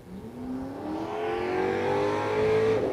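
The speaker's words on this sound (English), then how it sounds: "Truck sounds good." A fire truck engine revs and climbs steadily in pitch at a firemen's parade and drill, fairly close and alone for about three seconds.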